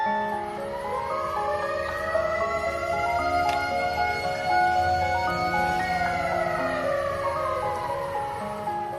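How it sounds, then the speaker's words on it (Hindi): A loud village siren in Nagapur, Beed district, Maharashtra, wails steadily with a slowly rising and falling tone, sustained throughout and ringing out across open surroundings. "नागापुर गांव सायरन की आवाज से गूंज उठता है।"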